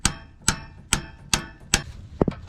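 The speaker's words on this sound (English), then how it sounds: "what I found works best to get it out is a 5/32 Allen bit, and you just slide it in there and then hammer it out." Hammer blows driving a pivot bar out with a 5/32 Allen bit on a 300ZX Z32, five sharp evenly spaced metallic strikes close up, then a quick double tap, with no talk.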